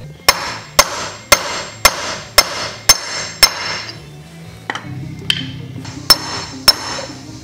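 A hammer drives wheel bearing races into a car steering knuckle, ringing out in a steady series of sharp metallic strikes, about a dozen in all, close and loud with a brief pause midway.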